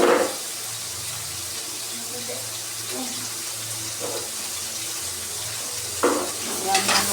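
Food frying in a pan while fat melts, stirred now and then; a steady sizzle runs throughout with occasional scraping clinks of the utensil, growing a bit louder near the end.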